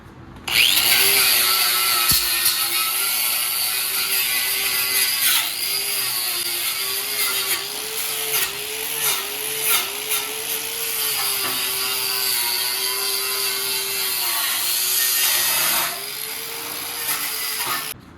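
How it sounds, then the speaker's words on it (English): A power tool whines steadily as a wire wheel grinds against the metal firewall of a 1979 Plymouth Volare wagon, loud and close, its pitch wavering and dipping with pressure for a long continuous stretch. "I'm gonna go ahead and wire wheel up in here"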